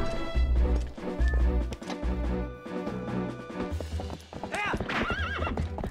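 Horse in the video game Zelda: Twilight Princess, with loud rhythmic hoofbeats clip-clopping at a gallop, followed by sharp neighing whinnies toward the end.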